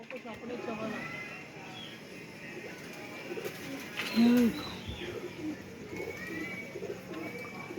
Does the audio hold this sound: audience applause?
no